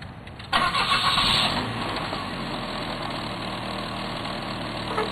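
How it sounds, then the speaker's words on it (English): A propane-powered vehicle's engine cranks and catches abruptly after a short pause, roars up briefly, then settles into a steady, close idle that runs evenly to the end. "It's a propane vehicle, and we're going to run the vehicle for 1 minute."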